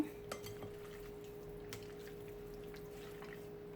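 Utensil clinks and scraping against a pan as meat is stirred for Ethiopian shekla tibs, a few sharp knocks early then a soft steady clatter, fairly quiet with no talk.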